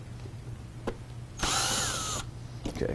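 A power drill briefly whirs while removing a screw from the driver seat of a 2002–2006 Ford F250/350, with a single close burst of about a second amid light handling clicks and rustle.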